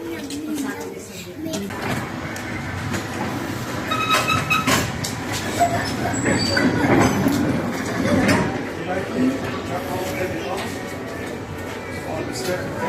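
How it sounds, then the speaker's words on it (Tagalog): A very old passenger train running in the Philippines gives a steady low rumble with occasional clicks and clanks, heard from on board or nearby, while people chat over it throughout. "Let's go and ride the train"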